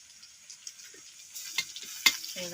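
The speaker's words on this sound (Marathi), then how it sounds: "आलं लसूण टाकून असं मिक्स केलं भाजून घ्यायचे" Crushed ginger-garlic stirred into browned onions in an iron pan over a wood-fired clay stove: quiet sizzling with scattered scrapes and clinks from stirring, a sharper knock near the end, and no voices.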